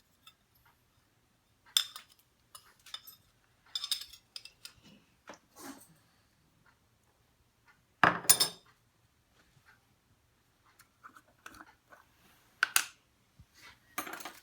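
Spoonfuls of chili pepper measured and added, heard as sparse, quiet clinks and taps of a spoon against a container, in scattered small clusters separated by near silence, with one louder scrape-like clatter midway.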